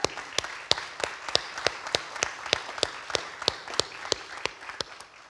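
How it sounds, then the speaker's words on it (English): A ribbon-cutting audience at the Akron History Center gives a steady round of applause, with a dense patter of hands under crisp, regularly spaced claps that continue evenly throughout. "we should give him a round of applause"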